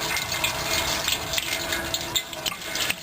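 Coolant drains steadily from a disconnected radiator hose on a 1970 Chevelle, a continuous close splashing and trickling of liquid with small bursts, heard alone.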